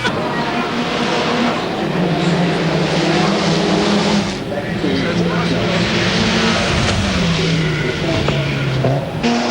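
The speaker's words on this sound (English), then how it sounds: "the little Mazda RX-7 making his way around, and he'll blast his way back onto that back straight very, very shortly" A Mazda RX-7 race car drones around a street circuit during a one-hour Group E production race, its engine pitch rising and falling steadily, with commentary running over the noise.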